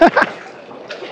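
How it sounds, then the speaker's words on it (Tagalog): Sea waves splash and slosh loudly up close at Puka Beach, Boracay, two sharp bursts at the start fading into a softer wash, with a voice briefly in the mix. "Lakas ng alon dito."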